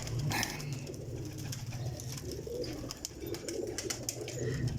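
Pigeons of a prized breed coo faintly in a low, continuous murmur, far off under a steady background hum.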